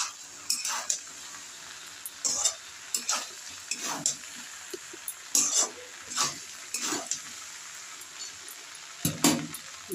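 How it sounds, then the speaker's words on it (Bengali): Vegetable pulao with cashews and raisins is stirred in a pan, a spatula scraping in irregular bursts over a soft background sizzle, close by and without speech. "এরকম 2 মিনিট নেড়ে নিলেই সবজি কাজু কিশমিশ দিয়ে তাহলেই একেবারে রেডি হয়ে যাবে"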